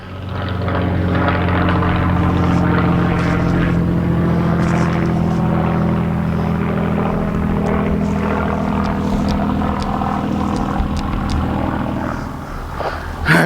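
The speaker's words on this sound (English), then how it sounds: "there's a Spitfire going over" A Supermarine Spitfire propeller aircraft passes overhead above a hop garden, its engine a loud, steady droning roar that holds for several seconds before easing slightly at the end.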